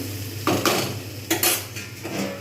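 A spoon scrapes and clinks against a pan while potato curry masala is stirred and sautéed, giving several distinct metallic scrapes over a low sizzle, with no voices.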